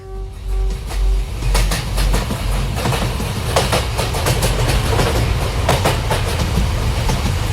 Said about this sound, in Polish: Dźwięk pociągu jest przyjemniejszy niż ten dźwięk w głowie.